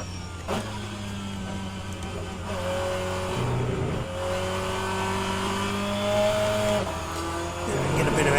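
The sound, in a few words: race car engine revving under throttle, rFactor 2 video game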